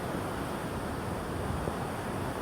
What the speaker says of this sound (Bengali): এই সমুদ্রের ভয়ঙ্কর রূপটা দেখতে পারতেছি। সেই ঢেউগুলো চমৎকারভাবে